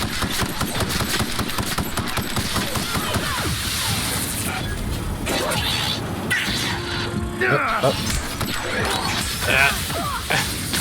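Gunfire in The Outer Worlds comes through as dense, rapid bursts and impacts mixed with whooshes and crashing, a loud busy combat din with someone talking over it.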